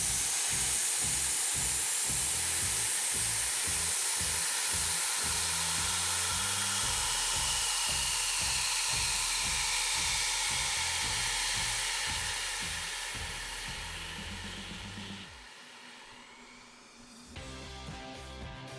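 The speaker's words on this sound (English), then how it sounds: "open the nozzle to allow all nitrogen gas and dry chemical to empty" A fire extinguisher empties nitrogen gas and dry chemical through its hose in a loud, steady hissing rush with a low pulsing undertone, gradually weakening toward the end before a brief sputtering tail.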